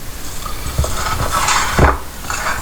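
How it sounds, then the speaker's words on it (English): Ragi (finger millet) cake batter is stirred by hand with cardamom powder in a bowl, a close, steady scraping with a couple of sharper knocks against the dish and no talking. "Mix it all up."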